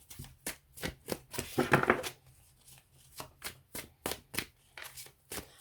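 Tarot cards are shuffled in quick, regular riffles and taps, close and quiet, one pass with a denser flutter midway, with no speech over it.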